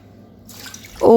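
Water is poured into a cooking pot of Yemeni Adeni chicken zurbian, starting as a soft trickle and splashing louder and fuller at the end, close by.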